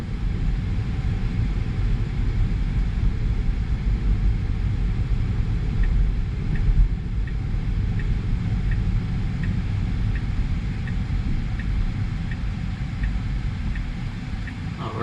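A Tesla Model 3 RWD driving itself on Full Self-Driving through Lincoln, Illinois: a steady, fairly loud low road and cabin rumble runs throughout with no break, and a soft regular ticking sits faintly above it.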